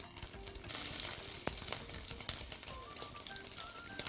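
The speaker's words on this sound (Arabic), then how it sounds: "واللحمه المسلوقه هحمرها، الزيت سخن جدا جدا جدا" Boiled meat cubes frying in very hot oil, giving a continuous crackling sizzle with scattered sharp pops, close and fairly quiet.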